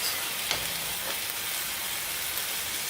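Vegetables for a taco filling sizzle steadily in a heated pan, a loud, even, close hiss with no talking.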